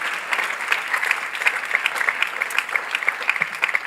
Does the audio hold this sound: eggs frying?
no